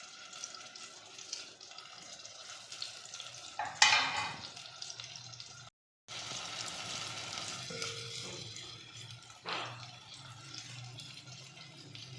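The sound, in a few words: keema (minced meat) sautéing with garlic in a pan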